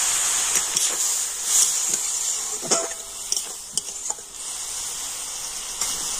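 Tomato frying in oil sizzles with a steady hiss after a little water is added, broken by a few sharp clicks and scrapes of stirring close by.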